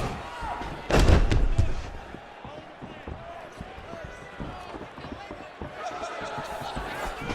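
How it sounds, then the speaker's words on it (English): Punches land in a UFC 4 fight on PS5, with a heavy thudding impact near the start followed by lighter scattered thumps under crowd noise and a commentator's voice. "Big punch lands through the middle."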